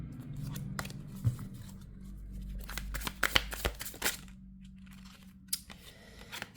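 Tarot cards being shuffled by hand, a steady papery riffling and crunching with a few sharper snaps, close and fairly loud with no talking.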